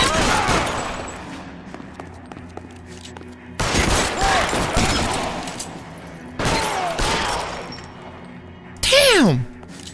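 Tommy gun firing in a video game comes as rapid bursts of automatic fire in several loud rattling volleys, with a person talking and exclaiming between them.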